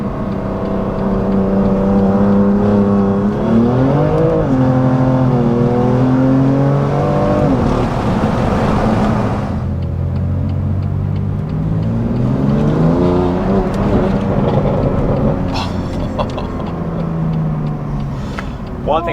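A tuned BMW M2 Competition with an FBO pump-gas map pulls hard through the gears, the engine note climbing and dropping at each shift, loud and steady, with a voice talking over it.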